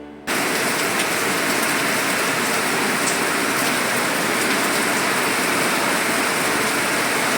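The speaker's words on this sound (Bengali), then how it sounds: "প্রচুর জোরে বৃষ্টি হচ্ছে" Steady, dense downpour of heavy rain, loud and continuous, a broad hiss of drops hitting surfaces with no voices.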